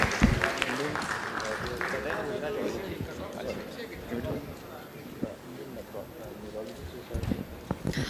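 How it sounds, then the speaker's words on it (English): Audience applause at a hepatology lecture session closes a talk, a steady patter of clapping that runs under nearby voices and rises briefly again near the end. "good round of applause for sir"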